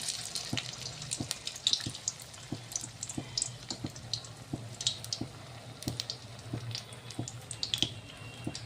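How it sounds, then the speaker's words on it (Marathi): Aloo tikki are lowered into hot oil for frying and give off a steady, crackling sizzle. Sharp pops and spits recur at close range throughout, and no one speaks. "आता तेल आपलं गरम झालेलं आहे, तेलामध्ये टाकत आहे"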